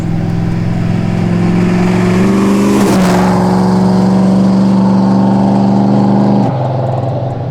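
A 1971 Chevrolet Camaro Z28 with a big-block engine and three-speed runs loud and close, idling with a deep rumble, then revving up briefly before settling back and dropping off near the end.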